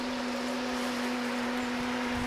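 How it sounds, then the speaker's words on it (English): Solar air heaters run at a home with wall-mounted solar panels on a snowy winter day, giving a steady electrical hum with a constant tone over broadband fan-like hiss, close and unbroken. "that noise you're hearing there, that's my solar air heaters kicking"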